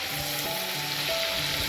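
Onion hitting hot oil in a Gujarati tempering with cumin and bay leaves, cooking for a mixed dal: a steady, close sizzle fills the short stretch with no break and no talk.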